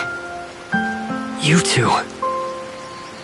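Steady rain falls in the video game Tower of Fantasy, a continuous soft patter under a short spoken exchange and tonal game sounds.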